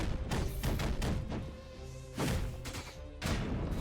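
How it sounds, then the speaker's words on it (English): Explosions and heavy impacts from the action platformer Skul: The Hero Slayer, loud broadband blasts bursting in repeatedly over a dense, continuous game soundtrack with no talking. "I should have known that the explosion would send me up into it."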